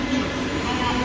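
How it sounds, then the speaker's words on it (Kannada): A metro train pulling into a station in Chennai gives a steady, loud rumble that fills the whole moment without breaks. "ಮೆಟ್ರೋ ಟ್ರೈನ್ ಬಂತು"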